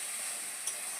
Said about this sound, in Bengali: আদা জিরে বাটা দিয়ে মশলাটা কষে নিচ্ছি